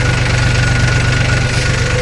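A farm tractor engine runs in first gear, close and loud. It gives a steady low, rhythmic diesel chug with a constant throb and no voices.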